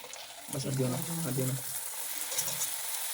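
Luchi dough dropped into hot oil sizzles and bubbles as it puffs up, a close, steady frying hiss with someone speaking over it.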